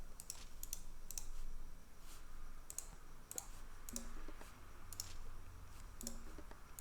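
Sharp, quiet computer mouse clicks during a real-time strategy match, coming in small clusters of two or three at an irregular pace over a steady low background hum.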